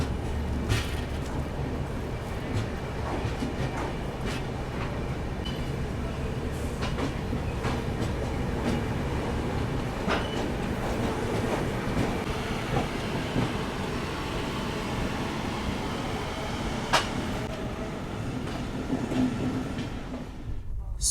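Sapt Kranti Superfast Express, a 2nd AC passenger train running from Gorakhpur Junction toward Muzaffarpur, heard as a continuous rumble of wheels on rails with clickety-clack rhythm, occasional sharp clanks and faint murmurs of voices inside the coach.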